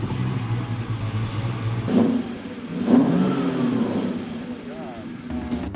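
Chevy car strapped to a chassis dyno, its engine droning steadily then revving up through a pull with rising roar and a slight dip, loud and close with some background noise.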